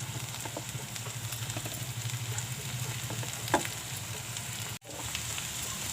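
Tomatoes frying with onions in hot oil in a pan, a steady close sizzle with a low hum and one sharp clatter midway, then a brief dropout, no speech.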